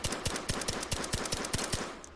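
Rapid suppressed shots from a Ruger Mark IV pistol with a stock in the virtual reality game H3VR, about ten sharp muffled cracks in quick, fairly even succession, close and punchy with no talk.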